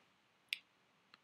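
A computer mouse clicks once crisply in a quiet room, followed about half a second later by a fainter second click.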